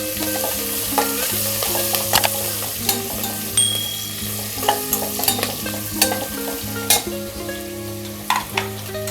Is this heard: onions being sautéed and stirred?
yes